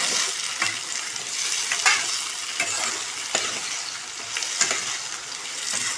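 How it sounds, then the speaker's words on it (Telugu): Tomatoes being stirred into fried onions for chicken curry give a steady, close sizzle, broken by regular scraping strokes of a spoon against the pan, with no talking. "టమాటా వేసుకోవాలా బాగా కలిపేసుకోవాలి"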